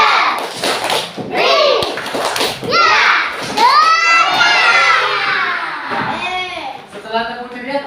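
A group of children loudly shout and chant the 'tepuk ceria' clapping routine in unison, with dull thumping claps under their voices throughout, lively and close.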